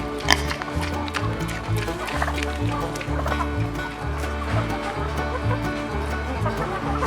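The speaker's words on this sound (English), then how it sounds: "Come on, chickens." Chickens cluck and squawk at feeding time on a homestead, a busy, overlapping flock close by with a regular low thumping rhythm under the calls.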